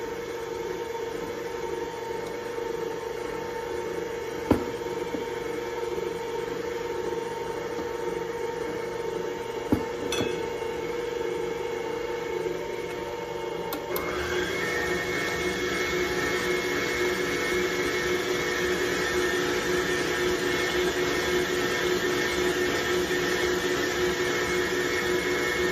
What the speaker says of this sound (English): slow down the mixer before you add the flour